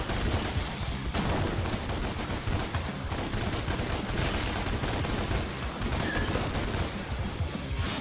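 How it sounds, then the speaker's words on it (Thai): Explosions and gunfire-like blasts from the video game Devil May Cry, a dense, continuous barrage of crashing booms filling the whole stretch with no pauses, loud and close. "โดนอยู่ดีๆก็โดนระเบิด"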